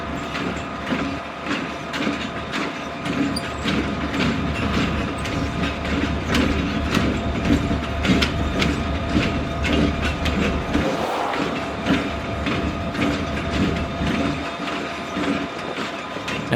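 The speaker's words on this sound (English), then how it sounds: "Here's a pacing shot of Norfolk Southern GP 40-2 3001" A Norfolk Southern GP40-2 diesel locomotive, ex-Reading, rumbles past on an industrial track with a steady engine drone and rhythmic clatter of wheels on rail, loud and close throughout.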